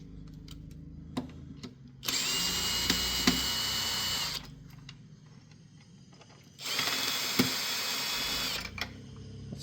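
A power drill drives screws into a faceplate in two sustained whirring bursts of about two seconds each, close and clear, with small clicks and handling taps between them.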